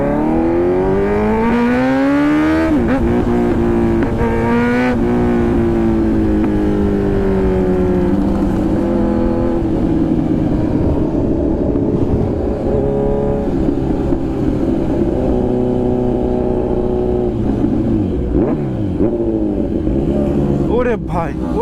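A Kawasaki Z900 superbike's engine revs loud and close, with rising and falling harmonic pitch sweeps over a steady roar, and voices talking over it.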